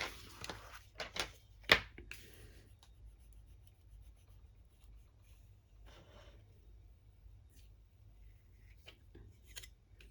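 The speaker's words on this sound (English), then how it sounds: "I'm going to come in with the cookie cutter again onto that side, and down we go" A cookie cutter presses down and cuts through craft material for festive stamping projects, giving a few close, scraping clicks and taps early on, then fading to near silence with faint scattered handling noises.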